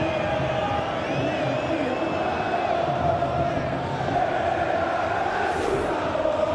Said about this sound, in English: Espanyol have the free kick, which is given an ironic cheer by the home supporters